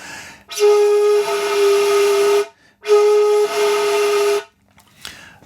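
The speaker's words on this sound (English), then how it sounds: "use a bit of muraiki for playing the low note" Two long, breathy low shakuhachi notes played with muraiki, each sustained about two seconds with a rough, windy edge to the tone, separated by a brief pause.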